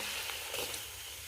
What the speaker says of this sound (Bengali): লুচিগুলো ভেজে নিই